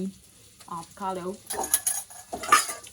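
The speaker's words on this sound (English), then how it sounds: "You can hear it sizzling." Avocado sizzling in a hot pan on a home stove, a soft crackling hiss rising in the second half, with clinks of utensils and cookware and a brief murmur of a voice earlier on.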